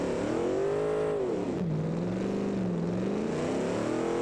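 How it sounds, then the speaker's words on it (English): V8 engine in a car-building racing video game, rumbling and revving steadily with rising and falling pitch, loud and continuous with no talking. "listen a little bit more to that glorious V8 rumble"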